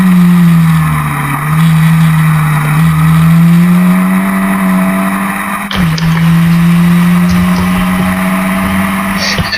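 Historic Formula Ford race cars in a close queue at Brands Hatch, with a loud, sustained engine drone that holds steady and rises in pitch, and a brief dip partway through as cars pass.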